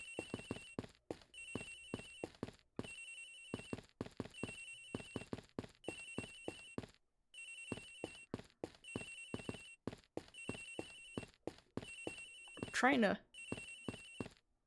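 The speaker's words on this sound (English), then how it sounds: "Agent Hicks's phone! It's ringing from somewhere, sir!" A phone rings in the game Ace Attorney Investigations, with repeated electronic trilling bursts in a regular on-off pattern and a voice speaking between the rings.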